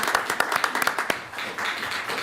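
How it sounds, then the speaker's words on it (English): Audience applause at a city council meeting: a burst of sharp, irregular hand claps from a small room crowd, loud at first, then thinning into scattered claps and room noise. "we will give you a clap"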